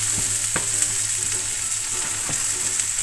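Garlic, onions and chilli sizzle steadily in a pan, a continuous bright hiss with a few clinks of a spoon stirring, close and fairly loud with no talking.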